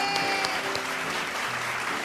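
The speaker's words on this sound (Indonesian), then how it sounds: "Kita berikan tepuk tangan yang luar biasa untuk Dustin" An audience applauds a young pianist at a charity event for cancer survivors and sick children, a dense, even wash of clapping with a few distinct claps, moderately loud with no talking.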